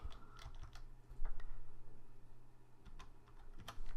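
Quick, uneven clatter of fingers typing on a computer keyboard, clicks bunched in short bursts with brief pauses, close and fairly quiet over a low steady room hum.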